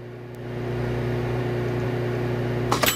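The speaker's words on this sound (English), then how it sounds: "Microwave. All right, here we go. Let's put inside, and I'm gonna grill him." Microwave oven running inside the Kick The Buddy video game, a steady low electrical hum with a constant whir throughout, ending in a short burst of louder crackling noise near the end.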